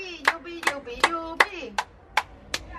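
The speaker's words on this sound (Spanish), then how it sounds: "A ver las palmas." Seven evenly spaced hand claps from a family with children on holiday in Santorini, sharp and close, with a faint voice or tone in the background.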